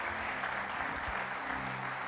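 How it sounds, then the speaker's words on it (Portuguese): A church congregation applauds during a sermon, a brief burst of steady, dense clapping heard at a moderate distance with a faint hum underneath. "Você pode aplaudir Ele por isso?"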